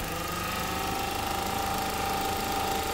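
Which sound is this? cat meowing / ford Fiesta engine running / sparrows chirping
ford Fiesta engine running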